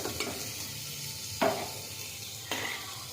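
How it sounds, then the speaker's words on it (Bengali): Mutton with potato and carrot fries in a pan for mutton soup, giving a steady soft sizzle with two brief utensil clinks. "এটাও একটু ফ্রাই হবে।"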